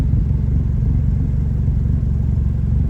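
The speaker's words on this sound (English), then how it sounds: "Get your own custom exhaust." Deep, loud engine rumble from a car's custom exhaust, steady and throaty throughout without clear rises in pitch.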